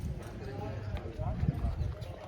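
Purebred tent-pegging horses on a horse farm in Gujrat, Pakistan, clop their hooves in soft, uneven thuds. Someone talks over them, and the hoofbeats stay faint beneath his voice.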